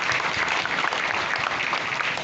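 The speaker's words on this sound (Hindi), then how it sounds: "तालियां एक बार।" Applause for the band closing a church confirmation service, a dense burst of crowd clapping heard close and steady, with no talk over it.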